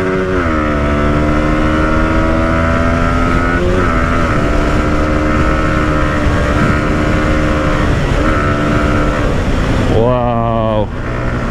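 A motorcycle engine runs steadily during a ride, a loud droning hum that rises and falls in pitch, with wind buffeting underneath, voices talking over it and a sharp rev near the end.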